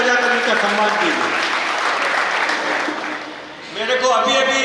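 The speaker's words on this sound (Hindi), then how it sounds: "एक बार जोरदार तालियां बजाकर इनका सम्मान कीजिए" An audience claps loudly and steadily to honour a couple celebrating their 51st wedding anniversary. The clapping eases briefly, then swells again, with a voice faintly heard near the end.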